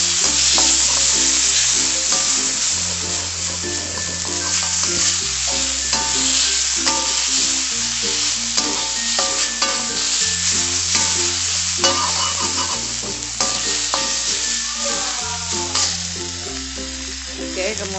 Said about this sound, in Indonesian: Ini kita kayak dia digongseng aja gini.